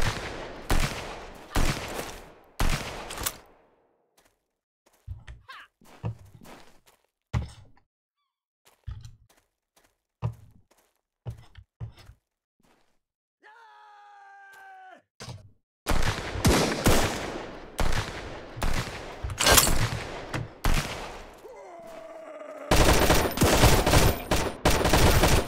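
AK rifle fire in the survival video game Sunkenland comes in several loud, sharp bursts of rapid shots, broken by quiet gaps and single shots, with a short electronic tone midway before heavy firing resumes.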